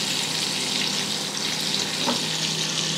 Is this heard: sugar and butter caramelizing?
yes